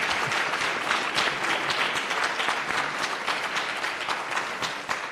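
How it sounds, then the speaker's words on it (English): A conference audience applauds its panelists with dense, sustained clapping from many hands, filling the room evenly for several seconds without a break. "Can we please give a round of applause to our panelists?"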